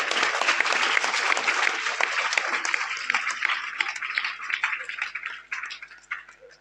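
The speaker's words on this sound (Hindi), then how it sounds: "तालियां आपके लिए।" Audience applause fills a hall at a motivational seminar with poetry recitals at a school, dense clapping that stays loud and steady before thinning out toward the end.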